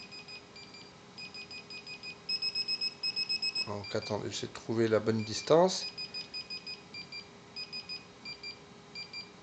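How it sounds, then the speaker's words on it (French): Dog anti-escape fence collar beeping in a steady series of short electronic beeps, repeating as the dog nears the boundary wire; someone speaks briefly over the beeps partway through. "le collier va biper."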